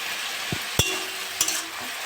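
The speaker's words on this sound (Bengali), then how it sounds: "বিট আর আলুটা ভেজে নেবো।" Beetroot and potato pieces fry in a pan, giving a faint, soft sizzle broken by a few sharp scrapes and taps of stirring.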